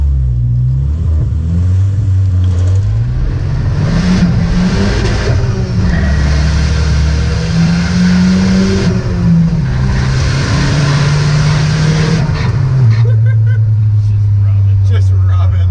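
Turbocharged Volvo 740 drift car launching, its engine revving loud and close throughout with rising and falling pitch, heard from inside the cabin while people talk over it.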